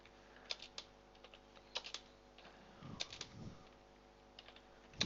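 Typing on a computer keyboard, quiet irregular key clicks and taps close by, a few sharper strokes among softer ones, with no talking.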